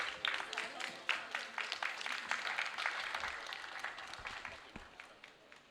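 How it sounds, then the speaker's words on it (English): Audience applause for contest judges at an English poetry writing and recital contest in Macao, a steady spread of many hands clapping in a hall, moderately distant, with faint voices underneath. "Another round of applause for our judges,"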